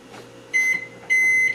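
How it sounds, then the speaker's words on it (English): Two electronic beeps from a microwave, each held for about half a second, close and clear over a low hum. "I'm gonna put it in the microwave"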